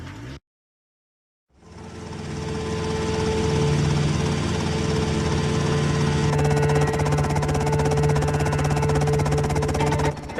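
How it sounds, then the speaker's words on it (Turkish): A helicopter arrives in GTA Vice City: after a brief silence, a steady rotor drone with engine buzz rises and holds loud and near, no voices over it. "Pekala helikopterimiz geldi."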